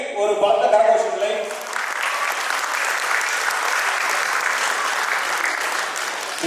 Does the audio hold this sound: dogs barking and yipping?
no